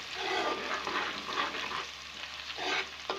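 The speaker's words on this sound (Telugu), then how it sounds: "పచ్చివాసన పోయే వరకు ఈ అల్లం వెల్లుల్లి పేస్ట్ని మీరు వేపుకోండి." Ginger garlic paste frying in hot oil for a cluster bean curry gives a steady close sizzle with bursts of stirring scrapes, continuous and moderately loud with no voices.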